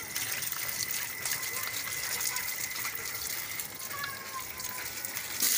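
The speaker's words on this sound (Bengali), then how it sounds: "জল দিয়ে ভালো করে 1 থেকে 2 বা 3 বার ভালো করে ধুয়ে নিচ্ছি" Fish pieces being washed with water, a steady close gush of running water pouring continuously with splashing throughout.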